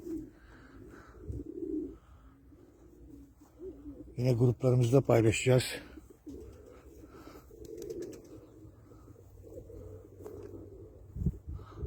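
Soft, low domestic pigeon cooing repeats throughout, partly under a man's speech, with a louder burst of bird sounds near the middle.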